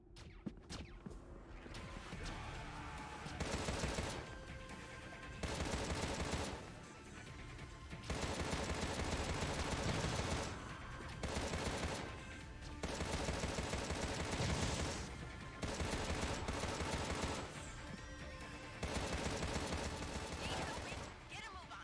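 Rapid gunfire and explosions from the Nintendo Switch video game Contra Rogue Corps come in dense bursts that alternate with short lulls, all layered over game music and effects.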